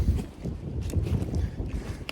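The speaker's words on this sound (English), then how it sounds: "But it's windy" Windy outdoor air on public hunting land in Pennsylvania on a warm morning after a night of rain, a soft low rumble of gusts brushing the microphone with no voices.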